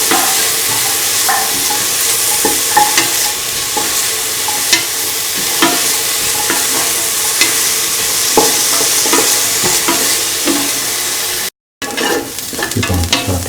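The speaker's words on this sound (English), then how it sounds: "Keep on sauteing. Thoroughly." Shallots and garlic sautéing in a pan for a lemon chickpea carrot rice, with steady sizzling and frying hiss punctuated by repeated stirring scrapes, close and loud, with a brief dropout near the end.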